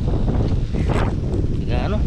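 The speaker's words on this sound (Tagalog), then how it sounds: "Lakas ng hangin." Strong wind gusts at an outdoor building site for a bamboo nipa hut, a loud, constant roar buffeting the microphone, with brief faint voices in the background.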